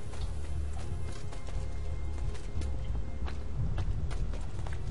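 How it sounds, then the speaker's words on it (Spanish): Horse hooves clip-clop at a steady, brisk rhythm throughout a stretch of Assassin's Creed 2 gameplay, fairly close and continuous, layered over busy ambient game noise. "ahí hay un caballo"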